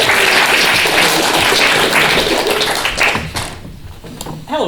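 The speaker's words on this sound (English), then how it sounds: "Let's give Bronwyn a round of applause" An improv theatre audience in Glasgow claps in a dense burst of applause that fades toward the end, followed by a brief voice.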